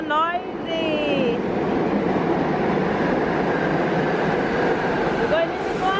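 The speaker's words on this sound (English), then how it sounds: "the metro is coming loud and proud. It's so noisy." A New York City metro train rumbles into the station, a loud continuous roar filling the whole stretch, with a brief voice and squealing tones near the start and end.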